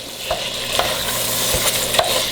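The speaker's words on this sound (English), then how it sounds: "Now I'm just gonna mix it all up" Onion is stirred in a pot during soup cooking, with a steady sizzle under a few distinct scraping strokes of a spoon, close and alone without talk.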